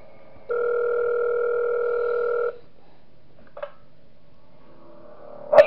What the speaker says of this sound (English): Okay, we get a phone call.